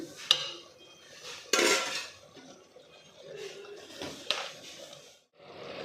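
A spoon clinks against a cooking pot while sambar powder goes into fried ridge gourd: a few sharp, close metallic knocks and scrapes spaced a second or more apart, over quiet kitchen background.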